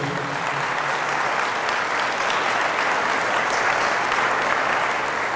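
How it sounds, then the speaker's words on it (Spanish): A church congregation applauds during a Pentecost Mass, steady dense applause filling the room at an even level from start to finish. "Fuerte el aplauso a la palabra de Dios."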